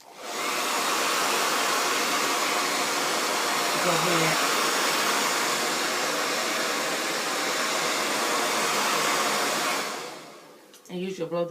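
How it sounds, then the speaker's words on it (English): A hair dryer roars steadily at close range while drying a pixie-cut wig unit for about ten seconds, then cuts off, followed by a few faint clicks and handling noises. "use your blow dryer"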